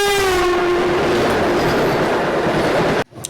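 Amritsar Mail passenger train runs at speed, a loud, steady roar of wheels and rushing air with a falling tone early on, cutting off abruptly near the end.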